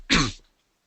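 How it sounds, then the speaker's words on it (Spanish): A single short, harsh cough from a man with a cold, close and loud, followed by silence. "Me vais a perdonar que de vez en cuando tenga que toser porque estoy un poco acatarrado."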